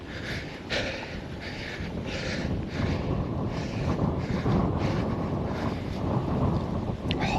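Strong wind buffets the microphone continuously while someone walks along a route near Syracuse and Manlius, New York, producing a loud, rumbling roar with gusts throughout.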